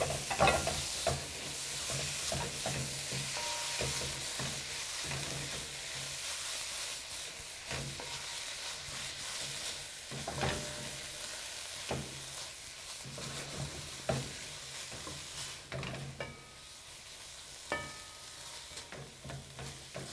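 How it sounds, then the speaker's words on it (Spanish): Tuna goes into a pan of spinach and is stirred through, with a soft sizzle and hiss under scraping utensil strokes, quiet and close, with no voices. "Y procedemos a añadirle el atún a las espinacas."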